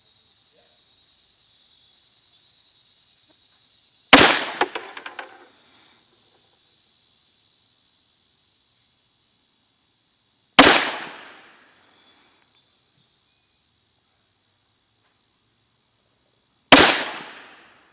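A MAC MEUSOC pistol fires hollow point rounds at an outdoor range, three loud, widely spaced single shots, each a sharp crack with a short echoing tail, over a steady high insect-like hiss.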